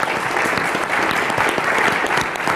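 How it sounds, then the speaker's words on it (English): An audience at a startup competition applauds the finalists, a continuous wash of many hands clapping at moderate distance with no talking over it. "round of applause for the finalists"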